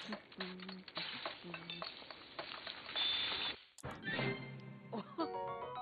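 Cooking simmered fruit in a pan in Zelda Breath of the Wild: game cooking clatter and bubbling with stirring, short jingles and tonal chimes overlaid, then a brief pause and a bright finishing fanfare.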